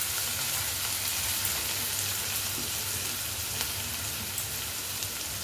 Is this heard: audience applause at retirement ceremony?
no